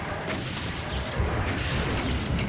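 Heavy BFG weapon fire in the Doom map Scythe 2, a dense, loud, continuous roar of blasts and explosions with no talk over it.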